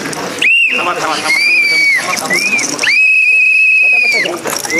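Several shrill whistles blown hard at a press conference, sounding in long sustained blasts, some short and one held for over a second, loud and close, with voices and crowd chatter underneath.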